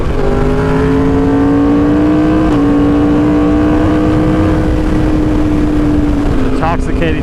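A Yamaha R1 motorcycle engine revs while being ridden, giving a loud sustained whine whose pitch climbs and dips with the throttle, with a brief shift partway and a voice over the engine near the end.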